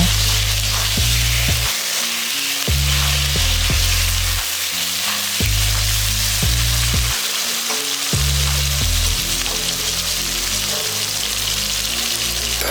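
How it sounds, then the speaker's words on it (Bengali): Long-cut potato slices frying in a pan over a medium gas flame, a loud continuous sizzle broken by a repeated rhythmic scraping and clatter as they are stirred, with no voices. "এবারে এই আলুগুলোকেও কিছুক্ষণ নাড়াচাড়া করে ভেজে নেবো"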